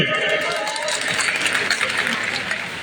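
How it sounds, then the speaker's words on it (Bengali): Audience applause for a singer at an Islamic cultural programme, a dense steady wash of clapping from a crowd lasting throughout, with voices mixed in. "ওবায়দুল্লাহ তারেকের জন্য একটা হাততালি"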